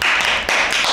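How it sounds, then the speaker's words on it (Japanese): A small group claps in dense, continuous applause at an office gathering right after an award announcement. The clapping stays steady and close for the full second, with a brief dip midway. "拍手。"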